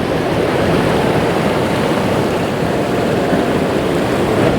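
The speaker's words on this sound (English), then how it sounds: "Here's a wave coming in now. There we go, a little bit of foam over the top," Ocean waves roll in and break with foam over the top, a steady, loud wash of broadband surf noise with no talk.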